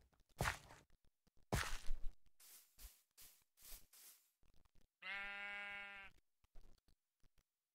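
A single sheep bleats in a video game, one wavering, buzzy call lasting about a second, set among scattered soft thuds and clicks like footsteps.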